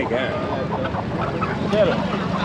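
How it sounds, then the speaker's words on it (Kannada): Ducks quack and honk steadily amid a busy crowd at the Chandapur poultry market near Bengaluru, with voices talking throughout the noisy scene. "ಬಾತುಕೋಳಿಗಳು"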